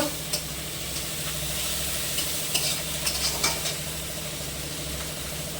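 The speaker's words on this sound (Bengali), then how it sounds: "কাঁচা লঙ্কা কুচি দেব দিয়ে একটু ভালো করে ভেজে নেব" Chopped green chilies frying in a pan, a steady close sizzle and hiss with a few light scraping stirs scattered across it, no one speaking.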